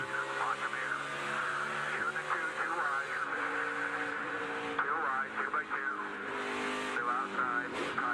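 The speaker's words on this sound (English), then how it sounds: "You hear the throttle control." A NASCAR stock car's engine drones steadily from onboard as the driver modulates the throttle, the pitch wavering up and down while race commentators talk over it throughout.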